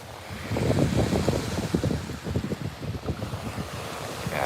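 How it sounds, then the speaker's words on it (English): Loud wind buffets a beach at night, with surf rolling in beneath the gusting, roaring microphone noise; no one speaks. "The wind is loud"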